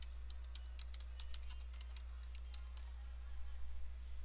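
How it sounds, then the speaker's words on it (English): Soft, quick keyboard typing on a computer, a steady patter of small clicks at low level throughout, with a faint steady hum underneath. "Click anywhere on the canvas to create a new type layer and type in Antelope Valley."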